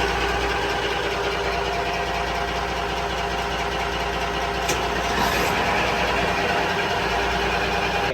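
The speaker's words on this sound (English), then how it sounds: "we're ready to start the engine" Steady, loud rumble of yacht engines starting and idling, a constant mechanical drone with faint knocking and a brief higher whine midway.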